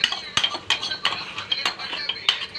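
A spoon stirs dal tempering seasoned with asafoetida in a metal pot, giving repeated close scraping clinks and knocks in an uneven rhythm with no talking.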